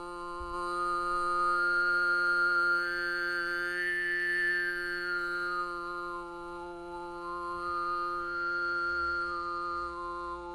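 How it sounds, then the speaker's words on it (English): Overtone throat singing by one voice: a steady, low drone holds throughout while a bright, whistle-like overtone melody glides up and down above it, loud and alone for about ten seconds. "I've got a recording here of me singing overtones."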